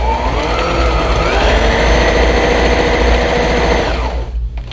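Sewing machine stitching fabric for a handmade pumpkin, a loud steady mechanical whir and rapid needle chatter running close up before slowing and stopping at the end.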